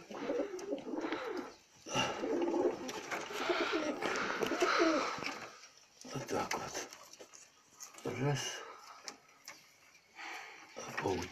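Pigeons coo in a pigeon loft, a continuous murmur of soft cooing and rustling that runs under a person talking nearby.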